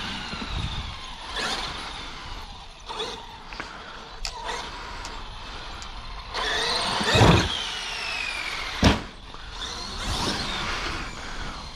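A Traxxas X-Maxx RC truck with a Hobbywing Max 5 1100 KV motor and Mod 1.5 25/30 gearing accelerates in bursts, giving rising electric whines and sharp squeals, with a few loud sudden surges over the outdoor background.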